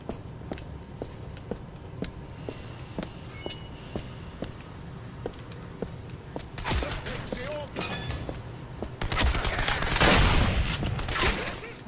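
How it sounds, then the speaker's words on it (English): Shotgun fire in the video game Turning Point: Fall of Liberty, set in an alternate-history invasion, with loud bursts near the end over footsteps, scattered clicks and background game sounds. "I like that shotgun sound."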